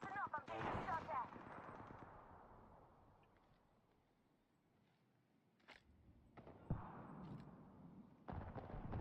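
Gunfire in the video game Apex Legends, loud bursts of shots at the start and again near the end with a quieter stretch between, and speech mixed in.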